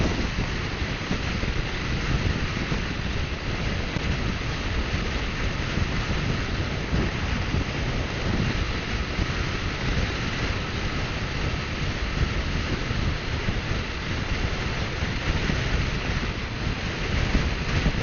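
Strong headwind roaring against a rider on a V-MAX 125cc motorbike with a modified exhaust, a constant loud buffeting rush with engine noise blended underneath, continuous throughout.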